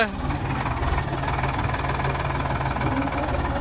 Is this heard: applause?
no